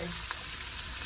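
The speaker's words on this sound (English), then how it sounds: "So I'm gonna kind of fry it a little bit" Curry goat frying in a pot with its seasonings, a steady close hiss of sizzling that continues unbroken through the brief moment.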